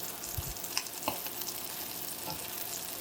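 Salmon and shrimp seafood cakes frying on a flat-top griddle, giving a steady close sizzle with a few soft scrapes and taps, and no talking.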